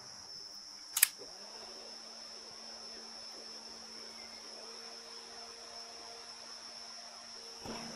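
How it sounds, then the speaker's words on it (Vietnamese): Small fan of a solar-powered LED camping storm lantern running alone nearby, a steady whirring hum with a thin high whine throughout, broken by one brief sharp click near the start. "Quạt chỉ ồn thôi, độ ồn cao,"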